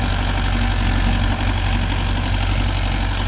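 Mahindra Yuvo Tech Plus 585 4x4 tractor engine running steadily at 1600 RPM in a rice field, a loud close diesel drone with a rapid even low throb that holds constant throughout.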